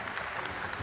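An audience applauds at a Clout MMA 2 fight press conference, a steady burst of clapping from a crowd with no voices over it.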